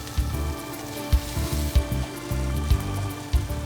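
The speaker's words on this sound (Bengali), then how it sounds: "এখন আমরা চিকেনটা ভাজবো" Marinated tandoori chicken frying in hot oil gives a close, steady sizzle with periodic crackles and soft bubbling pops throughout, no voices present.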